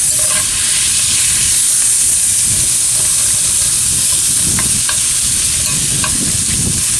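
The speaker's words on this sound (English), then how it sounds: "Stir that up there real good." A whole onion sizzles steadily in leftover meatball fat in a cast iron pan, with a constant hiss and occasional stirring scrapes throughout.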